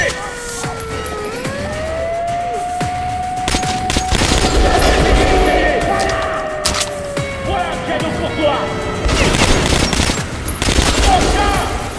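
Gunfire in the video game Metro Last Light, dense loud bursts and rattling shots over a wailing siren-like tone and game ambience lasting throughout, with brief voices mixed in.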